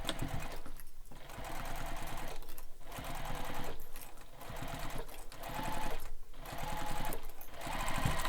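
A sewing machine runs fast at a long basting stitch length, tacking bag flap layers together, in several bursts with brief pauses between them, steady and close, with no talking.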